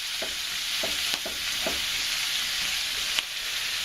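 Cabbage and bacon stir-fry in a pan, with a constant close sizzle under several quick scraping stirs in the first second and a half and another knock near the end.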